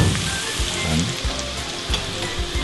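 Garlic fries in butter with a bright, steady crackling sizzle, close and loud, with small pops scattered through the constant hiss.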